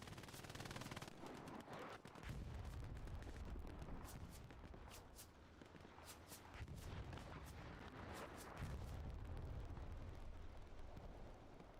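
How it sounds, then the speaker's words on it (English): An anti-tank gun is blown up in the Hell Let Loose video game, heavy booming explosions and rolling battlefield gunfire filling the scene with dense, continuous low rumble and sharp cracks. "AT gun got blown up."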